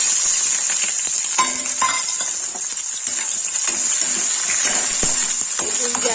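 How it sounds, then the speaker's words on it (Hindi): Onions dropped into hot oil for Kashmiri red saag sizzle with a bright, steady hiss, with scattered clinks and stirring scrapes throughout. "ये तेल गरम हो गया, अब इसमें प्याज डालेंगे"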